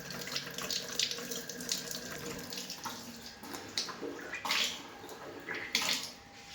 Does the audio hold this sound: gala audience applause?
no